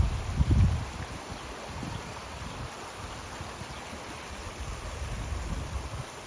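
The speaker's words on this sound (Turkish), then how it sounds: "bak ırmak akıyor abi. Size zoom yapayım biraz suyun sesini dinleyin" A river flowing past a Turkish village gives a steady, broadband rush of water, with a brief deeper rumble near the start and a constant hiss throughout. No one speaks.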